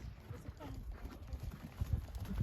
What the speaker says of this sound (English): Another horse coming past.